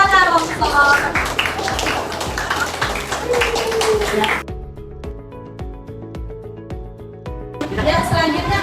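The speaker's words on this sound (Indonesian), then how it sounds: "tepuk tangan untuk kelompok Tanah Longsor" A classroom claps for a student group that has just presented. Talking opens and closes the stretch, and in the middle a series of sharp, fairly regular claps rings out on its own.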